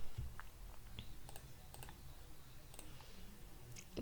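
Mouse clicks while working in SPSS statistics software, a handful of short, sharp taps scattered across a quiet room tone, fairly close and isolated with no talking.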